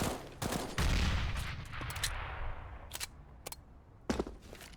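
Pistol gunfire in Counter-Strike on the Cobblestone map comes as a scattered series of sharp shots, some in quick clusters, over a busy game soundscape with no talk.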